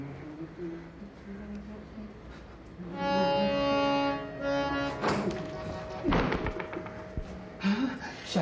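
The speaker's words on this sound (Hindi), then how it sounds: "ये क्या बज रहा है? ये दरवाजा।" Someone knocking on a house door, dull thuds and taps heard among background music and people talking.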